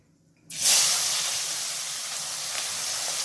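Chopped onion drops into hot oil with melted sugar in a pan for rui fish kalia, setting off a sudden loud hiss that settles into a steady, close, continuous sizzle with no talking.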